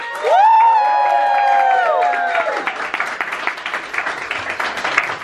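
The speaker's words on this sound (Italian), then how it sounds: "Give a round of applause for both of them." Crowd at a music performance breaks into clapping and cheering with whoops, starting after a loud sung note, the applause building into a scattered, lively patter.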